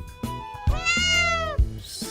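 Video game cat giving a couple of clear, close meows, one long drawn-out mew with bright, tonal harmonics, standing alone with no voices over it.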